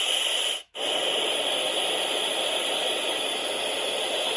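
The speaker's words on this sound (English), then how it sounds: "The next one is pink noise." A Babelio Mini sound machine plays pink noise as an even, steady hiss. A brief dropout near the start marks the switch between sounds, and the noise then runs on at a constant level.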